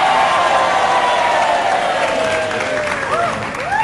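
Applause and crowd noise from a studio audience on a television talk show, a loud continuous wash with a tonal line and a rising vocal sweep near the end.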